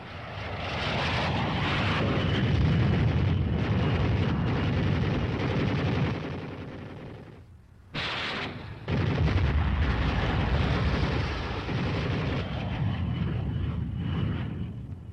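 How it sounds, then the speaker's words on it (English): Attacking aircraft strafe with machine guns and fire rockets in a military tactics demonstration; a loud, continuous roar of engines and gunfire fills the scene, briefly dropping out near the middle before resuming at full intensity. "The next flight uses machine guns and rockets."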